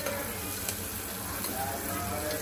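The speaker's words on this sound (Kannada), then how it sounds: "ಈರುಳ್ಳಿ ಹಾಕಿ, ಮೆಣಸಿನ್ಕಾಯಿ ಹಾಕಿ ಫ್ರೈ ಮಾಡ್ತಾ ಇದ್ದೀನಿ" Onions, green chillies, bay leaf, cardamom, cloves and pepper sizzle steadily in a hot pan, a continuous soft frying hiss at low level with no voices over it.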